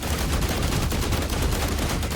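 Rapid, dense bursts of laser weapon fire from an enemy robot in the game The Last Caretaker, a loud continuous crackling barrage without any pause.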